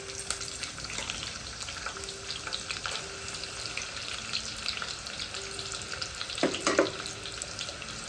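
Finely chopped onions frying in hot oil for a Telangana-style prawn curry, a continuous soft sizzle with occasional stirring clinks, close and steady.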